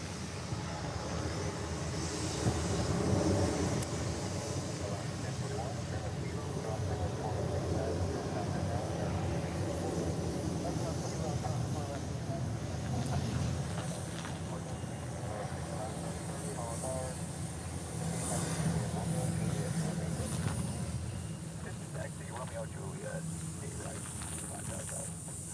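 A jet departing Honolulu airport rumbles and roars steadily for the whole stretch at moderate distance, with a broad hiss over the low drone.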